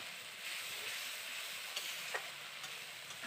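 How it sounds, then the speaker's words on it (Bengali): A spice paste with cashew and poppy seed paste sizzles softly in a pan while being stirred, a faint steady frying hiss with a few light scrapes of the spoon. "আবারও আমি ভালো করে নাড়াচাড়া করে নিচ্ছি।"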